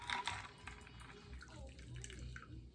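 A chilled absinthe drink is poured into a cup whose sides were swirled with absinthe, a close liquid splash and trickle that starts brightly then settles into a steady gurgling stream, with no one speaking.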